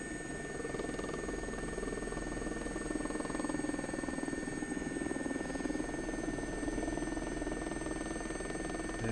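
Helicopter flying over Windsor Castle, heard from inside the aircraft as a constant, close engine drone with a steady rotor throb and a faint high whine, continuous throughout.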